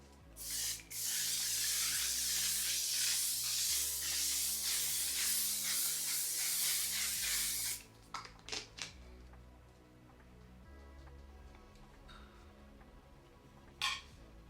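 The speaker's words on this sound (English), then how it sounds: "The setting spray just helps to melt all the powders, and then this seals everything in place." Makeup setting spray mists onto a made-up face in one long, close, loud hissing burst of about seven seconds, followed by a few short spritzes and quiet handling.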